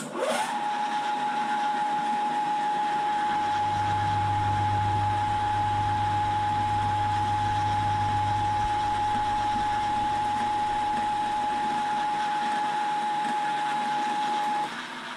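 A milling machine motor spinning at about 1200 RPM, a steady continuous hum with a constant tonal whine after a brief start-up, running alone at moderate level for the whole stretch.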